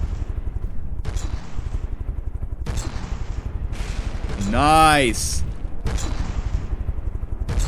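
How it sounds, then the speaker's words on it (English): Cannon fire in the video game From the Depths, shooting at a wooden hull: a series of heavy booming shots recurring at intervals, with a louder sweeping impact in the middle, under an excited voice. "It's a pretty bog standard cannon, really, if we're honest."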